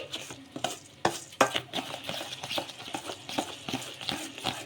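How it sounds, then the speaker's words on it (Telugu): A spoon stirs raw rice mixed with egg in a pan, giving a series of scraping, rattling strokes at an uneven rhythm, close and fairly loud, with a soft sizzle between strokes. "ఇలా బియ్యంలో ఎగ్గు వేసుకొని పూర్తిగా కలిపేసుకోవాలి"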